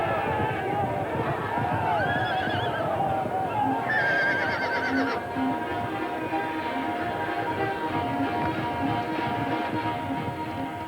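Wild, tough little Mongolian horses whinny and neigh, sharp high calls rising over a busy mix of hoofbeats and crowd noise, fairly close and loud.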